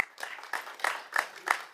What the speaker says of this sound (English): I think we gotta give that a big round of applause